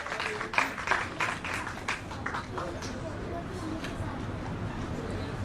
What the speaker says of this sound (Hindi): एक बार जोरदार तालियां उनके लंबे स्वस्थ जीवन के लिए